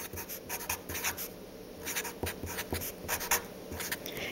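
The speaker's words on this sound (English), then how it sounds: "so I need to write that down" Close, steady scratching strokes of a pen on paper as notes are written by hand, in short repeated bursts with no talking.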